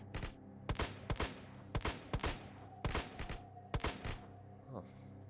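Gunfire in the Minecraft Crafting Dead Walking Dead roleplay game: sharp shots fired in irregular bursts and clusters, loud and close, over a low steady game drone, with no talk.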